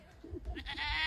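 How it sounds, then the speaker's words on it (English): Goats bleat in a quick, short burst of wavering nasal calls, fairly faint and close by. "Goats and lambs."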